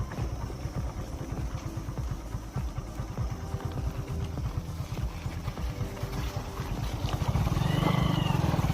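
A motorcycle engine idles and chugs steadily close by, then revs louder near the end as the bike rides through water covering a road over a river.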